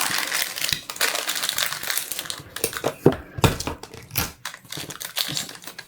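Tape crinkles and is torn and pressed onto a sublimation sheet for a Christmas ornament, with irregular close crackling bursts and soft taps scattered over several seconds.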